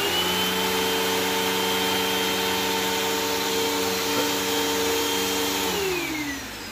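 A vacuum cleaner running on carpet, a loud steady close drone with a high whine that holds evenly, then slides down in pitch as the motor winds down at the end, with no talk.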